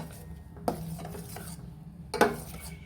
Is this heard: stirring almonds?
yes